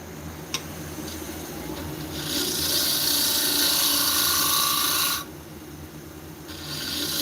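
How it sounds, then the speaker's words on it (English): Sandpaper rasps against a spinning wood turning piece on a lathe, a broad, steady hiss that swells for about three seconds, cuts off, then starts again at the end, close and fairly loud over a low motor hum. "I'm gonna sand it flat"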